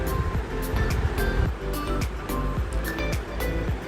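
A mixer grinder grinds a coconut paste with water and coriander powder, its loud, steady whir pulsing in a slightly uneven rhythm throughout, with no talking.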